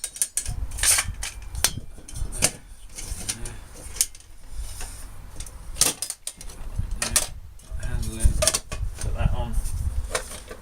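A self-contained bushcraft cooking set, a stove with kettle and lid frying pan, gets packed away: repeated metallic clinks, knocks and rustles up close, with a lighter dropped into the kettle.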